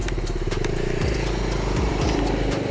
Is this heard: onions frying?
no